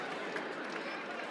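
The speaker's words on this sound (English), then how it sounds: "guess what the chants are coming from the Hendricken crowd" The Hendricken crowd at a state tourney final basketball game against La Salle makes a steady, diffuse roar of chanting and cheering. The sound is continuous and moderately loud, with no clear rhythm picked out.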